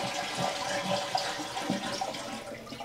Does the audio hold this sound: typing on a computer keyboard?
no